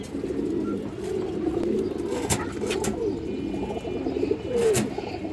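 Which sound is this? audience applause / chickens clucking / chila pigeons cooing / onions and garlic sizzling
chila pigeons cooing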